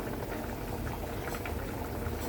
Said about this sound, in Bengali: একদম টাটকা গজাল মাছের ঝোল কেটে নিয়েছি ছোটো ছোটো করে